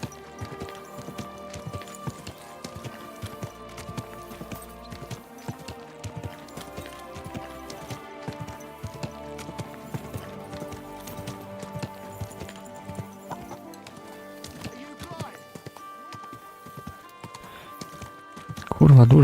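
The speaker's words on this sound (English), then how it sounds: "Easy, good horse." Horse hooves clip-clop steadily in the medieval game Kingdom Come: Deliverance II, set against a busy game soundtrack and ambience, with a louder burst at the very end.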